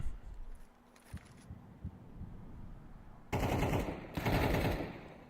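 Gunfire in Call of Duty Black Ops 3 during a competitive match: a brief exchange of shots early, then two dense, loud bursts of rapid automatic fire in the second half.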